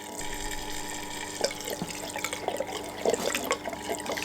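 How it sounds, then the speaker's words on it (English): Grain mash in a Grainfather brewing system spilling over the overflow pipe, a steady close trickle and gurgle of liquid with a few small splashes, no talk. "the grain's just started going over the overflow pipe now"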